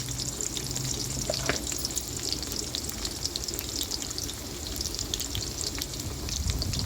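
Onion, cinnamon, cloves and cardamom fry in oil for a restaurant-style veg kurma, giving a steady, close, hissing sizzle that holds fairly even throughout, with faint clinks and no talking.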